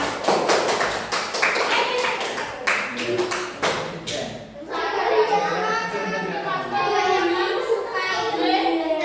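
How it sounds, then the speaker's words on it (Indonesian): A classroom crowd of children claps, at first in a few sharp scattered claps, then in a dense, steady round of applause with voices chattering underneath. "tepuk tangan untuk Mas Rama"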